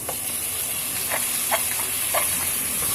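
Chicken sizzling in a pan with onion and spices, a loud continuous hiss of frying with a few faint scraping stirs, close and steady throughout.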